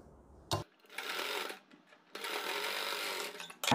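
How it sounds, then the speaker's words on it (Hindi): A sewing machine runs close up, stitching a line over lace on a kurti in two steady whirring bursts separated by a short pause, with brief clunks at the start and end. "इसके बाद दोस्तों लेस के ऊपर एक सिलाई और लगा देंगे इस साइड पर।"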